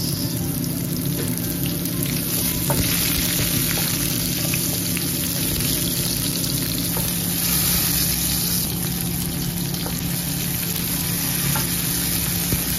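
Onions frying with garlic in a pan, a loud, dense and continuous sizzle that hisses close up throughout with a faint hum underneath.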